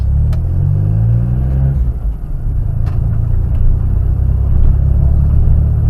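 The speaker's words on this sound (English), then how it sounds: "The car that I'm driving is a 1997 Geo Metro with a 3-cylinder, 5-speed." A 1997 Geo Metro with a three-cylinder engine and five-speed gearbox drones steadily while driving, a low rumbling engine note with road noise filling the cabin, continuous and fairly loud with no talk.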